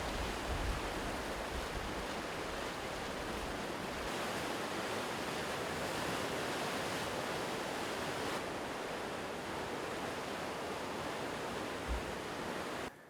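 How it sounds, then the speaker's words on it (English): A small waterfall on a Colorado river during a rafting trip gives a steady, unbroken rush of falling water, fairly faint and constant, with no voices. "Nice little waterfall."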